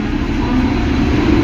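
The Howrah–Pondicherry weekly superfast train running, a loud, dense low rumble and rattle heard close by, steady and unbroken for the whole moment.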